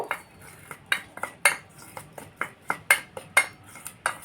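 Mango mixture with a little salt being mixed in a bowl: steady, evenly spaced clinks and scrapes of a utensil against the bowl, about two per second, close and distinct with no talking.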